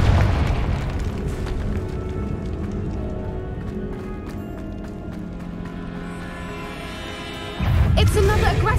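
The Confringo fire spell in Hogwarts Legacy on PS5 explodes in a deep, rumbling boom over a game score, then a sharper, louder blast lands near the end.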